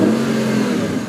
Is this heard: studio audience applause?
no